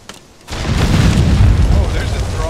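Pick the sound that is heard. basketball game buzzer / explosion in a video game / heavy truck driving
explosion in a video game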